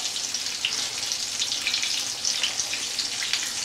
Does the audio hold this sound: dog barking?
no